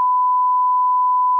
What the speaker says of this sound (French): On va biper cette petite bout.